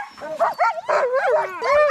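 Alaskan sled dogs whimper and yip excitedly while being petted at a winter camp, a close, loud run of high, wavering whines and short yelps in quick succession.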